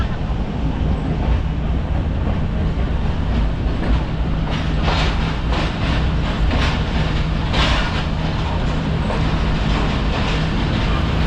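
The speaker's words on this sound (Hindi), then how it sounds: "Aahista Aahista train Lahore railway station की जानिब बढ़ रही है और अंदर प्लेटफार्म में इंटर हो रही है ट्रेन" The Tezgam Express rolls slowly into a platform at Lahore railway station, a steady loud rumble with a low hum and faint rhythmic clatter of wheels, heard from on board.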